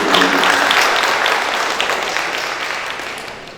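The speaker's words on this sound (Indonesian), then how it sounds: "Tepuk tangan buat semua." Loud, dense applause from an audience at Balai Kota DKI Jakarta, a broad wash of clapping that starts at full strength and tapers slowly over a few seconds.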